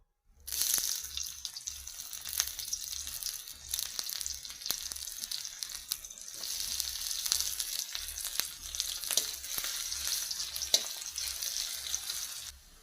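Chopped onions fry in hot oil with a bright, steady hiss and occasional crackles, close and continuous after a short silent start.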